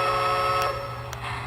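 A Lionel LionChief Plus Mikado toy locomotive's steam whistle sounds steadily throughout with faint background hum, two brief sharp clicks breaking in partway.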